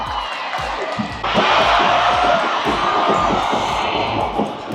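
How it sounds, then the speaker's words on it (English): A football crowd at a Thai league match with Buriram playing breaks into a sudden loud cheer and shouting that holds steady for several seconds, heard from within the stands. "Good little crowd there."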